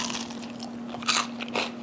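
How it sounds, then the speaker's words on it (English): Someone bites into a crispy homemade potato pancake, and two or three loud, close crunches rise over a steady background hum. "Let's see if we get that crunch."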